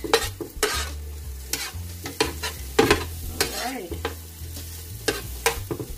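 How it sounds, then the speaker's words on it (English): Onions and peppers sauteing in a pan, a continuous sizzle broken by sharp utensil clicks and scrapes as they are stirred, close and moderately loud with no speech. "Nothing like the smell of sauteed peppers and onions."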